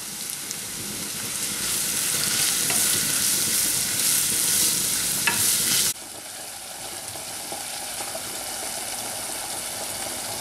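Carrots hit hot oil in a pot for a Bulgarian bean stew and fry with a loud, dense, steady sizzle that drops noticeably quieter partway through, then keeps crackling evenly.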